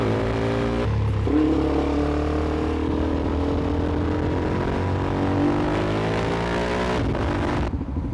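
A Suzuki DR-Z supermoto motorcycle idles with a single-cylinder thump, then revs and pulls away. The engine note rises and falls through a few gear changes and stays fairly close, with no talk.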